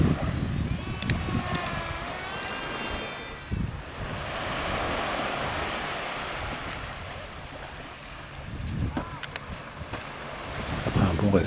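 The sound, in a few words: wind blowing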